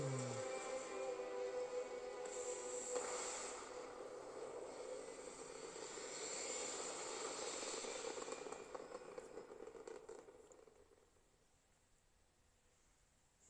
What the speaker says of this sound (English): Prepare for liftoff.